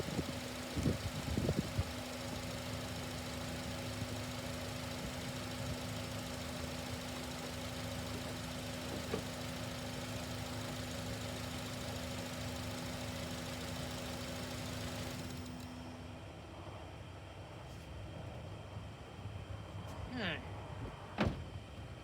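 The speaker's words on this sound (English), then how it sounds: "We'll stall the vehicle the same way." A car engine runs steadily for about fifteen seconds under faint speech, then abruptly cuts out as the vehicle stalls, leaving a quieter background with a few small clicks and thumps afterward.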